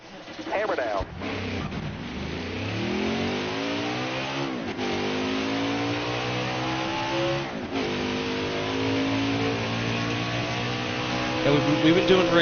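A race truck's engine in a NASCAR Truck Series video game revs up and accelerates, a loud rising drone with repeated gear-shift drops and climbs, with a voice talking over it.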